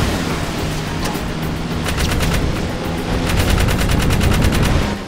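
Gunfire in Jak 3 comes as dense, loud bursts of rapid automatic shots over a rumbling noisy backdrop, growing heavier toward the end.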